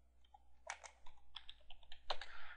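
Quick, light clicking of keys on a computer keyboard, a brief uneven burst of taps, fairly close but quiet.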